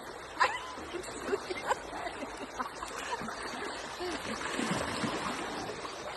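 River water flows and splashes steadily, with scattered light splashes and faint voices of people bathing in the background.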